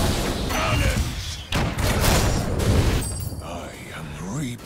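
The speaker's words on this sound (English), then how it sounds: "Cannons!" Cannon fire in a video game: a barrage of deep, heavy booms rolls continuously for several seconds, loud and dense, with a sharp break in the middle and shouting mixed in.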